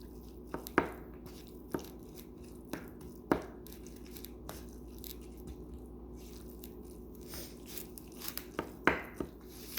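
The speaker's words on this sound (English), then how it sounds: "So I mix it together." Pumpkin being mixed with other pet food in a bowl, giving soft, sporadic clicks and scrapes of a utensil with quiet crunchy, squelchy stirring in between, close and fairly faint.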